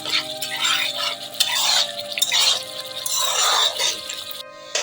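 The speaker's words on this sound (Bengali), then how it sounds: "এটা কিন্তু ঘন ঘন নাড়তে থাকতে হবে, নয়তো নিচে কিন্তু পুড়ে যেতে পারে" A spatula stirs egg curry masala in a pan, making continuous scraping and light sizzling with rhythmic swishes as the thick paste is pushed around the pan.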